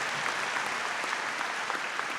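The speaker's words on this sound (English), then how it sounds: "So a round of applause for them for taking on life like that." Audience applause following a graduation speech, a steady wash of clapping from a crowd sustained throughout without a break, moderately loud and with no voices standing out.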